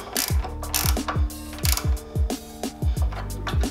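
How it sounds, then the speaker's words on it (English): A ratchet snugs a 10mm bolt on the carburetor of a Coleman CT200U mini bike, giving close, crisp bursts of clicking in a steady back-and-forth rhythm of roughly eight strokes with no talk. "Now we can snug up that bolt."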